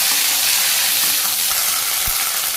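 Cumin seeds sizzle in hot oil in a pan in a village kitchen, a loud, steady hiss of frying that fills the whole clip with a few faint clinks underneath.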